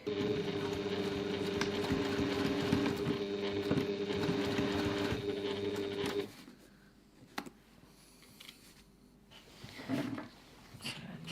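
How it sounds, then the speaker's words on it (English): A sewing machine stitches along the piping of a reusable fabric grocery bag, running in a steady close hum for about six seconds before stopping, followed by faint handling clicks and rustles. "Now I'm just going to stitch as close as I can to my piping."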